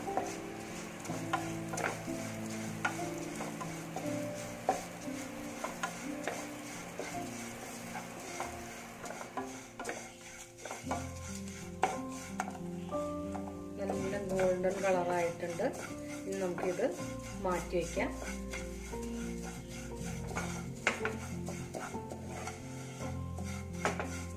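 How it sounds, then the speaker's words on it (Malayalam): Steady stirring and light sizzling from vermicelli roasting golden in a pan, with utensils scraping now and then, under a continuous bed of background music. "ഇതിൽ വറുത്തെടുക്കുക നല്ല ഗോൾഡൻ കളർ ആവണം വരെ വറുത്തെടുക്കുക"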